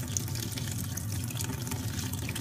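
Tap water runs steadily into a sink or basin during a hedgehog's bath, making a continuous close splashing rush with no speech over it.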